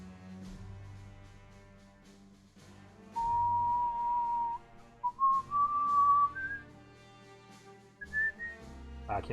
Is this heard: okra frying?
no